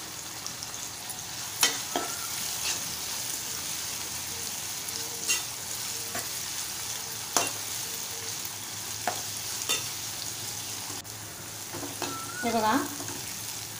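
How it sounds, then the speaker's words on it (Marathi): Onion and tomato sauté with salt in a pan for prawn masala, a steady close sizzle running throughout with occasional stirring scrapes and clinks; a voice speaks briefly near the end. "छान परतवून घेऊया। थोडंसं आपण मीठ घालूया, म्हणजे कांदा टोमॅटो लवकर नरम होतील।"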